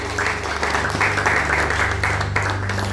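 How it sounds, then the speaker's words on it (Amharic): A church congregation claps in steady applause during a worship service; the sustained, crowd-wide clapping stays even throughout, with a low electrical hum running underneath. "እስቲ በጭብጨባ ከፍ ያለ ጭብጨባ ተቀበሉት"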